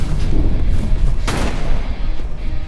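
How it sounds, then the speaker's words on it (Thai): Gunfire rings out in the ARK Mobile video game as a wyvern is shot down, a run of heavy booming reports over a rumbling low background, with one sharper blast standing out midway. "ยิงน้องทิ้งครับนี่"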